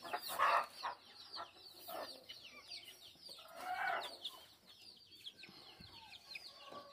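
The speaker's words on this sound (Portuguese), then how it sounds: "esse barulho de galinha" Several hens cluck and squawk intermittently, close by, with a busy chorus of birds chirping in the background.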